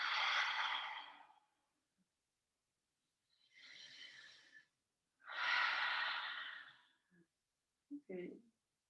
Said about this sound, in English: I'm just going to do 2 more full exaggerated breaths like that.